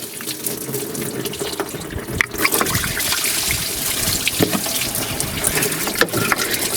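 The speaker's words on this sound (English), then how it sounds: "I'm going to lower this hose down below the radiator so that it continues to drain" Engine coolant drains steadily from a lowered radiator hose on a Yukon/Tahoe, a continuous close splashing and trickling of liquid with a brief louder gurgle partway through.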